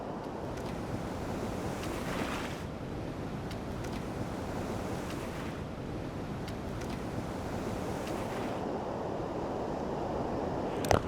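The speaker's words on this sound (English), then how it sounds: "Just try to use those waves." Ocean surf breaks on a beach in a steady, broad wash of waves, with wind buffeting the microphone throughout and no one speaking.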